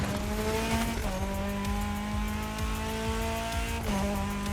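Car engine holds a high, steady drone with gear-shift dips while drifting in The Crew Motorfest, tire squeal blended in, loud and continuous with no talking.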